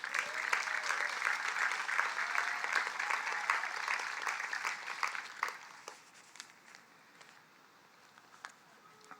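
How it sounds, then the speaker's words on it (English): A round of applause at a Charleston Collegiate School graduation, full and sustained at first, then fading over the last few seconds to scattered claps. "please give her another round of applause"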